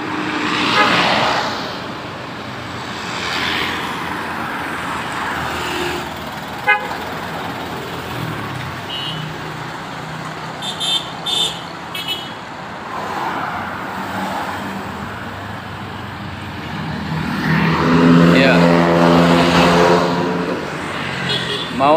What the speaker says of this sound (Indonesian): Banyak bis medium ya buat pariwisata di sini.